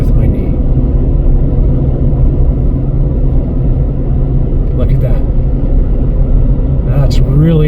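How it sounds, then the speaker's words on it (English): Steady loud rumble of a car driving on the road, heard from inside the cabin as a continuous engine and tyre drone, with no talking over it. "I'm driving with my knee."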